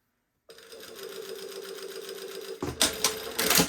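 A sewing machine stitches bias tape onto a blouse in one steady whirring run, close and fairly quiet, then a few sharper clacks near the end.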